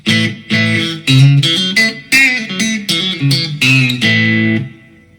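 A sequence of electric guitar chords played through a Line 6 POD GO with reverb set to 30% rings out with a spacious reverb tail, each strum sustaining before the next, the final chord fading away.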